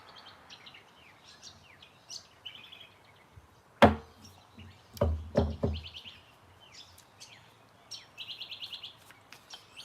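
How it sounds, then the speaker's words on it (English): Birds chirping outdoors, with scattered high tweets and a rapid trill that stay fairly faint, interrupted midway by a few loud knocking thumps close by. "Can you hear all the birds, eh?"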